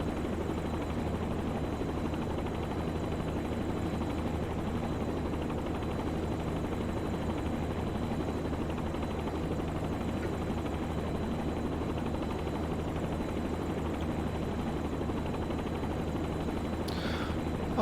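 A training helicopter holding level flight at about 2,000 feet during a lesson, its rotor and engine making a steady, loud, unbroken drone throughout, with no talking.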